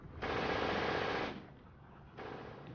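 Gunfire in the WWII strategy game Steel Division 2 as grenadiers come under fire: a loud, sustained burst of rapid shots about a second long, then a quieter stretch and a second burst, with no talking.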